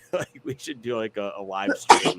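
A sharp, brief sneeze bursts out near the end of a stretch of casual conversational talk, louder and noisier than the surrounding voice.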